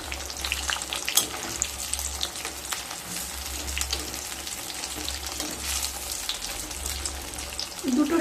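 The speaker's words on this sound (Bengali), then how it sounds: "অপর সাইডটাও খুব ভালোভাবে ভেজে নিতে হবে।" Batter-coated stuffed ash gourd pieces frying in mustard oil, a close, continuous crackling sizzle at an even level with a few sharper pops and a louder burst near the end.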